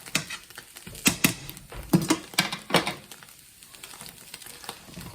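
Tortilla breakfast pizza frying in a pan, a steady soft sizzle broken by several sharp scraping and tapping strikes of a utensil in the pan, close and moderately loud.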